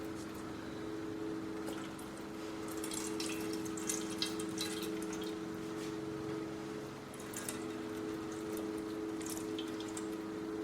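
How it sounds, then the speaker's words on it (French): Syrup poured over a chartreuse baba cake set on a rack above a dish: a faint, steady trickling and splashing of liquid under a constant low hum. "Et on va verser, donc il faut que le gâteau absorbe tout le sirop."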